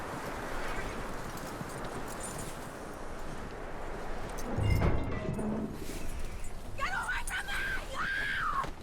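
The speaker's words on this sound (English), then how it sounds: "That looks like a decent horse." Horse hooves clip-clop in the Red Dead Redemption 2 video game, a steady rhythmic clatter under continuous ambient game sound, with a brief louder bump partway through and animal-like calls near the end.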